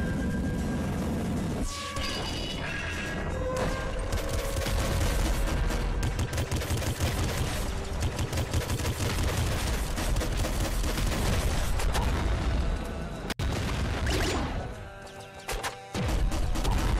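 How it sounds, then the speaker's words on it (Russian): Rapid quadruple gunshots and explosions from the game Nuclear Throne fill the stretch, a loud, dense barrage of crashing bursts and blasts with only brief dips near the end. "Это я четверными выстрелами бил."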